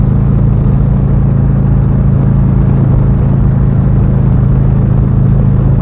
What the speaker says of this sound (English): A Heritage, a Ninja, and a Scout all riding together.